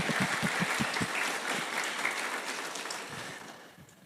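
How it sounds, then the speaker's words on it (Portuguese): A church congregation applauds the pastor's wife with steady clapping that gradually fades. A few low thumps sound near the start, and the applause tapers off by the end. "Pode aplaudir minha esposa,"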